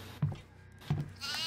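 A goat in the horror game Devour lets out two short bleats about a second apart, close and clear, followed by a hiss of ambient noise.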